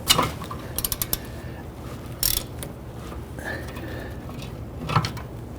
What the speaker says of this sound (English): So if you undo this bolt a few threads, go to the other outside bolt, undo that a few threads